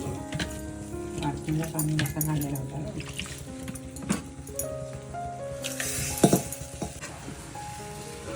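Spices sizzle steadily in hot oil for tempering, with scattered pops and a few metallic clinks from a spoon against the pan, while a person talks throughout.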